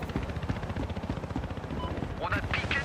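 A helicopter's rotor thuds rhythmically amid game sound effects and brief bursts in Battlefield Hardline multiplayer, with a voice talking over it.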